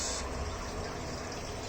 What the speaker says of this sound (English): So water is filling up.